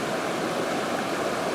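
A river in the West Country of England, running among large boulders, rushes and gurgles steadily and fairly loudly throughout, with no other sounds.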